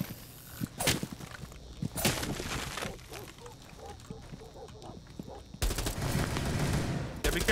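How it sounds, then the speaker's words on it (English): Bursts of DMR rifle fire in a shooter video game, a few sharp volleys separated by quieter moments with footsteps and movement, plus talking in the background. "I was shooting a DMR through and I couldn't get the bullets through."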